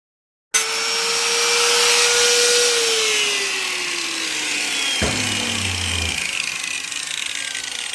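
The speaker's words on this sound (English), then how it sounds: "Just doing it with a 4-inch disc grinder." A 4-inch disc grinder working a metal suspension control arm: a loud whine starts abruptly, its pitch sagging as the disc bites and grinds, with a brief clunk midway and continuous rough grinding after.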